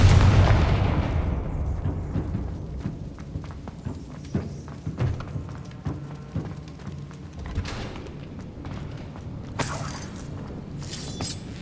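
Confringo fire spell blasts in the Hogwarts Legacy video game: a loud burst at the start that fades into a string of sharp cracks and impacts, with a bright crackling flare near the end.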